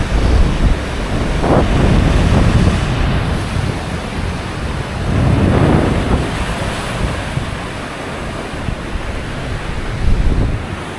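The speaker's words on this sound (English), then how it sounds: "It is so windy that you can mistake that it's like an ocean." Strong wind on the Lake Tahoe shore, buffeting the microphone in loud, surging gusts over crashing, surf-like waves, with no talking.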